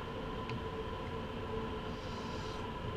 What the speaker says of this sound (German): Nehmen wir mal nur die E-Bremse.